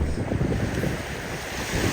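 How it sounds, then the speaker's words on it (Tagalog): Sea waves washing onto the shore beside a broken coastal road, a steady low rumbling surge with wind buffeting the microphone throughout. "Hindi lang tunog ng mga alon"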